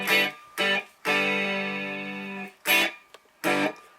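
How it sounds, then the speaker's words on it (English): Electric guitar played through a Digitech RP90 multi-effects unit with its humbucker-to-single-coil simulation on: several short chords, then one long sustained ringing chord, then two more short strums, clear and alone with no talk. "the HS makes the humbucker sound like a single coil"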